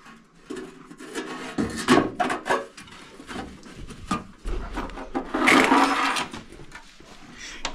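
Metal stove pipe for a 1923 wood-fired cookstove being pushed and scraped through a chimney stack in an off-grid cabin, giving irregular rubbing, knocking and grinding bursts with a louder scraping stretch near the end.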